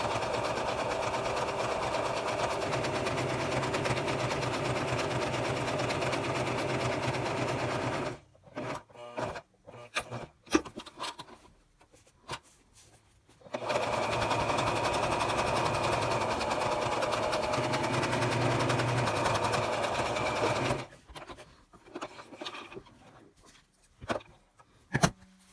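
A sewing machine stitches a reusable menstrual pad in two long steady runs of fast, close, buzzing whir, separated by a stretch of handling clicks and fabric shuffling, with more fabric handling at the end and no talk.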